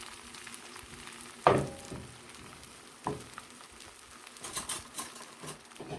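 Beaten egg sizzles steadily in a pan for a breakfast quesadilla, a thin layer spread across the whole surface, with a soft continuous crackle broken by a few sharper taps and scrapes near the end.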